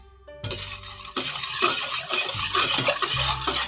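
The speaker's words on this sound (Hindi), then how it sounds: "अब इसको अच्छी तरीके से मिक्स करेंगे" A milk powder mixture for homemade condensed milk is stirred briskly in a bowl, the spoon clinking and scraping against the sides in quick, close, irregular strokes, with no one speaking.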